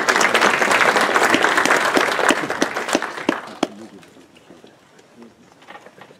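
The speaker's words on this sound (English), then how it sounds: "If I get a round of applause for Howard here." An audience applauds a speaker at a venture finance panel, with dense clapping for about three seconds that tapers into scattered claps and then quiet room noise.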